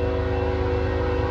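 A BNSF mixed freight train passing northbound, a steady, loud continuous rumble with sustained tonal hum throughout, no talking.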